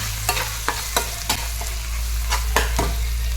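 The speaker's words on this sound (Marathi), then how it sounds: "लाल तिखट तुमच्या आवडीप्रमाणे कमी जास्त टाकलं तरी चालते मीठ मसाले कमी जरासं तेलामध्ये परतून घ्यायचं" Spices with red chili powder and salt stirred and sautéed in hot oil in a pan, with a faint sizzle under repeated scraping stir strokes at an uneven rhythm, close by and moderately loud, with no talking.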